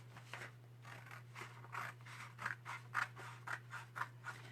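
Scissors snip through chalk transfer sheets in a series of close, crisp cutting sounds at a quick, slightly uneven rhythm, quiet against a steady low hum.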